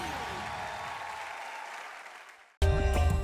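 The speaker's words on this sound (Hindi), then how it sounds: "चलिए, एक बार जोरदार तालियां हो जाए इन सभी के लिए।" Audience applause at a televised talent show, a broad wash of clapping that fades out over a couple of seconds before a sudden loud burst of music takes over.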